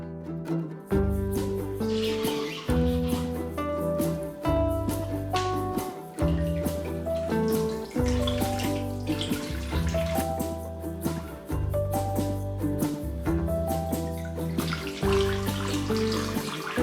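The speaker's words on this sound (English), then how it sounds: "Here you can see me soaking this batch in hot, clean water to rinse it" Raw sheep fleece wool soaks and is rinsed in hot, clean water, with splashing, sloshing and trickling water broken by short pauses and louder bursts of churning, close by throughout.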